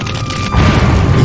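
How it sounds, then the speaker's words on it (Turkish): An ammunition depot explodes as fire reaches the stored munitions, a sudden loud, close low boom that swells into a heavy rumbling roar. "depoda bulunan mühimmatlara ulaşan yangın büyük bir patlamaya daha neden oldu"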